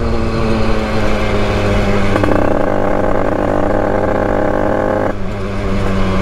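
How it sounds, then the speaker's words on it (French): A 100cc 2Fast motorbike engine revs hard and steadily, loud and close, with a buzzing vibration and a shift in pitch midway before settling again. "Vibration du moteur"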